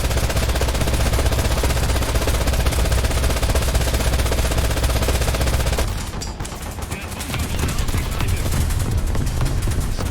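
Rapid sustained machine gun fire in a tank battle video game on a Stalingrad map, loud continuous bursts that briefly let up before resuming, with faint voices underneath.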